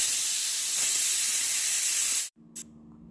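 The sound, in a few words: pressure cooker whistle releasing steam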